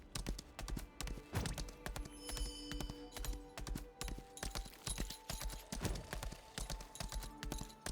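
Horse hooves clop steadily while a rider travels in a video game, a brisk rhythmic patter of hoofbeats layered over sustained tonal game music, at a fairly quiet level.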